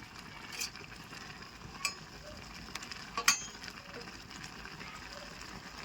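Maggi noodles with masala cook in a pan with a soft, steady sizzle, broken by a few sharp clinks of a utensil against the metal at irregular moments, fairly quiet.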